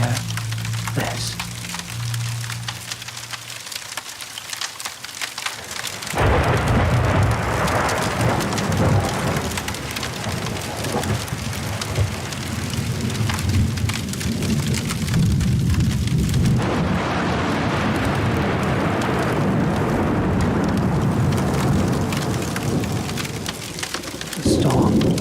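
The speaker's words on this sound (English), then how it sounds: "The storm appears to have arrived. It's getting worse. Rain begins to fall." A thunderstorm breaks with heavy rain pouring down, a steady loud wash that swells after a few seconds and holds, with deep rumbling beneath and a darker, rougher stretch in the middle.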